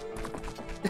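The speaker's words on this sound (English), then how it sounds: "She's a horse. Her name is Epona." Hooves of the horse Epona in The Legend of Zelda: Ocarina of Time Master Quest, a quick, close burst of clip-clop steps lasting under a second.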